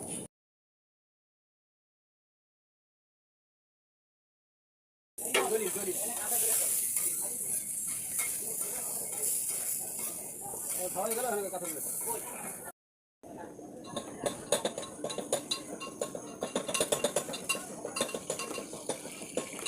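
Crab frying at a stall on the Padma River ghat at Mawa: hissing, sizzling oil with clinking utensils and metal scraping, after a long silent stretch, with people talking nearby.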